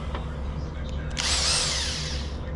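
A pneumatic rattle gun impact wrench on wood chipper blade bolts gives a short, harsh mechanical whir that kicks in over steady background noise, loud and near, lasting about a second and a half.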